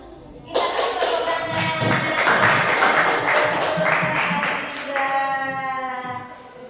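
A classroom audience at an Islamic religious education lesson in Indonesia breaks into steady, dense hand clapping that starts abruptly and carries on for several seconds, with voices sounding over it.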